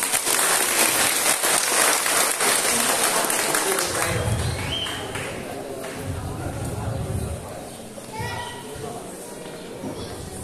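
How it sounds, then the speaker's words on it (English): A lecture audience gives a loud round of applause that fills the first few seconds and then fades, leaving scattered claps and voices chattering in the room. "A big round of applause, please."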